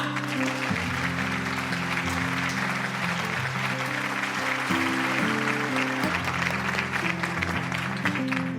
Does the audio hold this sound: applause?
yes